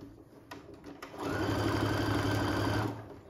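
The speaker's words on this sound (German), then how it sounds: "Brother Innovis Nähmaschine." Brother Innov'is sewing machine with a horizontal bobbin sewing a straight stitch, starting with a few clicks and then running as a loud, even mechanical whir for about two seconds before stopping.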